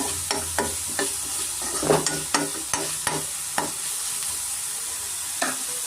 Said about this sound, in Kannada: ಸೇರಿಸ್ಕೊಂಡು ಸ್ವಲ್ಪ ನಾನು ಫ್ರೈ ಆಗೋಕ್ಕೆ ಬಿಡ್ತಾ ಇದ್ದೀನಿ